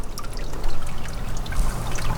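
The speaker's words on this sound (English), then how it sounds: "So this is where the dehumidifier drains to, into my pond" Drain water from a dehumidifier hose trickles and pours into a backyard pond, a close, continuous burbling splash with a low rumble underneath.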